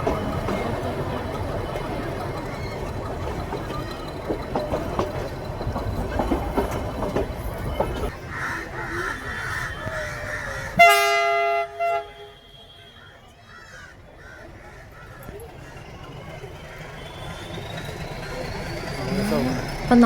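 The Ooty–Coonoor toy train at Coonoor station, preparing to reverse, gives a rumbling rolling noise that fades to quieter platform ambience with a sharp metallic burst midway, under background voices.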